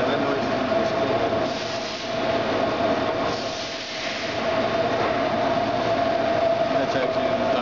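Hydraulic system of a Nicco NSG-74S surface grinder running, a continuous loud mechanical hum and whine with a steady tone, swelling and easing slightly at times, heard up close without speech.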